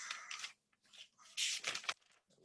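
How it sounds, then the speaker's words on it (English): Books being shuffled and moved around on a desk: a few quiet bursts of rustling and sliding, close by, separated by short pauses. "I'm shuffling my books here."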